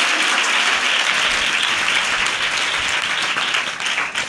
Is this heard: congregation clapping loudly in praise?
yes